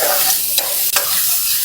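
Chowpan fried rice is stir-fried in a pan by a cook in a Cavite eatery, giving a loud, close, hissing sizzle broken by two quick scraping clacks of the utensil.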